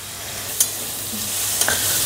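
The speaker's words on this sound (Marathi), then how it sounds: "आता याला चांगल्या पद्धतीनं कांदा भाजला थोडा की टोमॅटो चांगलं मऊ करून" Onion frying in a pan for vermicelli upma gives a steady close sizzle, broken by a couple of sharp clinks from stirring, with no voices.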